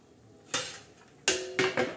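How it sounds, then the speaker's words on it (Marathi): A metal lid set onto a cooking pot of moong dal and drumsticks: one clattering knock, then a ringing clank followed by two more quick rattles as it settles, close and sharp against a quiet room. "आपण त्याच्यावर झाकण ठेवणार आहोत. हे बघा असं झाकण"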